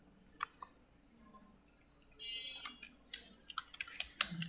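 Computer keyboard typing while entering text for a desk calendar design: scattered quiet clicks and short bursts of keystrokes against a faint room hum, with no speech.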